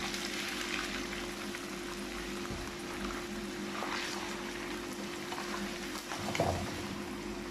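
Eggs cook in a heated pan, giving a steady sizzling, bubbling hiss that holds throughout with small crackling swells and no voices.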